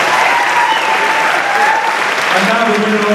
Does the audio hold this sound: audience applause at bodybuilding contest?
yes